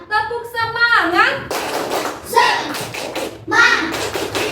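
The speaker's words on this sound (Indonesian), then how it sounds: "Ibu mengajak tepuk semangat itu supaya kita lebih semangat ya" A class of children does a rhythmic spirit-clapping chant, with short bursts of hand claps and taps mixed with their chanted voices in an indoor classroom.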